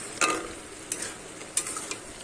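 A spatula scrapes and stirs ridge gourd and potatoes in a pan, several sharp strokes spaced irregularly over a soft, steady sizzle, close and fairly quiet.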